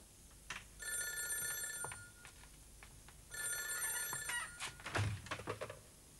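An old-fashioned telephone bell rings indoors in two distinct bursts separated by a pause, fairly faint, with a few soft thunks around it.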